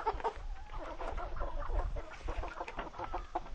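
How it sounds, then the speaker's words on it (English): Soft, busy clucking from about a dozen chickens together in a coop, with a low rumble underneath. "I have 12 hens, well, 12 chickens in here."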